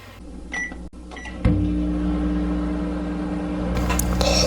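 A toy oven hums steadily while heating a burger in a kids' restaurant play game, starting after a couple of soft clicks and knocks, then a brief rattle and faint high chime near the end.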